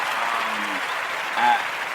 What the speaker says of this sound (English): I had to throw in another round of applause for that.